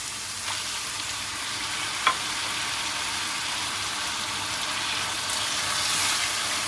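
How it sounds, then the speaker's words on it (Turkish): Tomatoes sauté in a hot pan for an eggplant dish, giving a steady, close sizzle and crackle with a brief utensil clink partway through. "Domatesimi de biraz kavuracağım."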